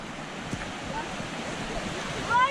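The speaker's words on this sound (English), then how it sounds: "Look how fast that water's moving." Fast-moving river water rushes beneath a bridge at Box Canyon Springs Nature Preserve, a steady broadband wash mixed with wind buffeting the microphone, fairly faint and unbroken.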